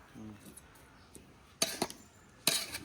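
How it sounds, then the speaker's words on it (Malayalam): Ghee rice being stirred with a small metal spatula in a pot: quiet scraping at first, then two bright clinking bursts of metal against the vessel, with a faint voice early on. "ഒന്ന് ഇളക്കി കൊടുക്കാം നെയ്യൊക്കെ എല്ലായിടത്ത് എത്താനേ"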